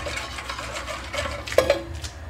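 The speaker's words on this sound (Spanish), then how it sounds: "Removemos." Spoon stirring warm milk and sugar in a pot on the stove, soft scraping and light clinks against the metal, quiet and close, with one brighter tap near the end.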